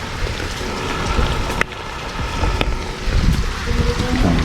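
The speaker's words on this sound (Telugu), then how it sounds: "ఈ వర్షం అయితే మాతో గట్టిగా ఆడుకుంటుంది" Steady rain hisses and patters without a break, mixed with gusty wind noise and a few faint knocks.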